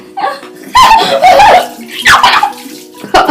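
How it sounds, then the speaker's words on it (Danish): Water splashes down in several bursts as it is poured over a girl's head as a forfeit for losing a friendship quiz game, with laughter and shrieks between the pours. "nu skal Ida jo have vand i hovedet, fordi hun var den, der tabte"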